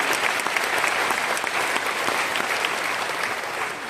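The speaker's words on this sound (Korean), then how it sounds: "우리 한번 박수 한번 드리면 어떨까요?" Church audience applauding in honor of a pastor's wife during a sermon, a steady, dense round of clapping from a large crowd filling the room throughout.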